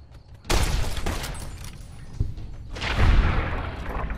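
Gunfire in the modded Fallout: New Vegas video game, a loud burst of rapid shots and booms that fades, then swells again into a second volley, with no talk.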